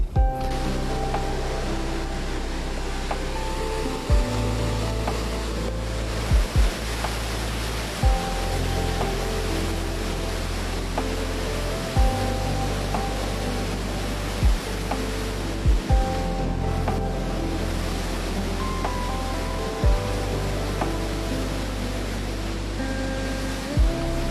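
Rushing water pours through Rasool Barrage on the Jhelum River, a steady, loud, broadband roar that holds throughout with a few brief thumps and clicks, no voices.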